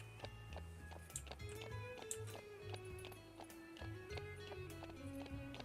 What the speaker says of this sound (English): I am riding a horse and it goes zoom.